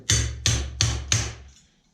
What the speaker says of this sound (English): don't use the flat, use the peen side of the hammer